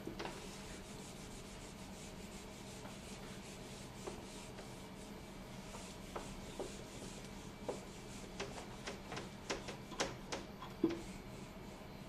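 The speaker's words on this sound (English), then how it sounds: "Let me to rub off the board." Someone wipes a lecture-room board clean, giving faint, irregular rubbing and scraping strokes over a steady background hum. Short taps grow more frequent toward the end.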